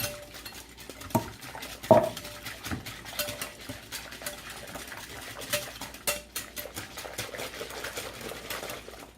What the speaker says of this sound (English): add it, juice and everything, and kind of give that a whisk around